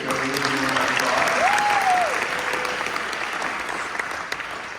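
Sustained applause from an audience at a Lutheran school's class of 2023 graduation ceremony fills the whole clip, steady and broad, with a brief tonal vocal or instrument glide briefly audible above it.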